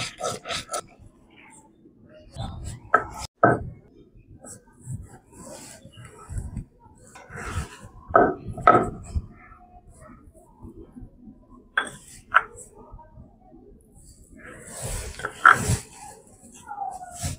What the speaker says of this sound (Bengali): বেটে নেব শুকনো লঙ্কা।